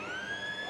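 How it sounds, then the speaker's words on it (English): A long steady siren tone sounds over background crowd noise, held without a break: the quarter-time siren at an Australian rules football match at Leederville Oval. "That's the quarter time siren."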